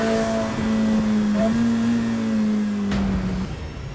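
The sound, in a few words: Ferrari V8 engine revving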